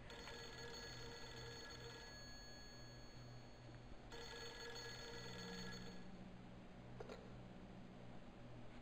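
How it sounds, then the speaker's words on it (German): A telephone rings in the Project Zero 3 video game, a faint repeated electronic ring in regular bursts over a low humming ambience, with no speech. "weil das Telefon klingelt"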